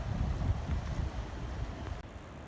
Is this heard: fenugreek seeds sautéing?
no